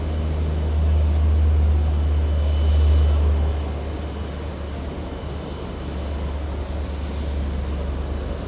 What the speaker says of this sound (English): Dash 8 just going out there in the background.